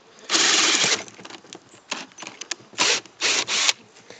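A cordless drill whirring in short bursts, starting and stopping several times, close by, with brief gaps of quiet between runs.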